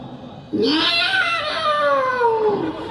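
A human voice imitates the yowl of fighting cats: a single drawn-out, wavering wail rising then slowly falling, loud and close.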